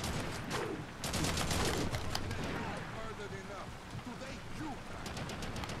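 Rapid bursts of gunfire from a co-op session of the shooter Haze, dense crackling volleys running throughout over a busy game soundscape, with players talking over the shooting.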